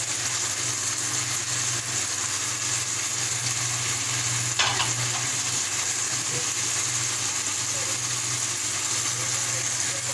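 Chicken jalfrezi with cubes of omelette sizzles steadily in a hot pan while being stirred, a loud, even frying hiss throughout with a brief scrape of the spoon partway through.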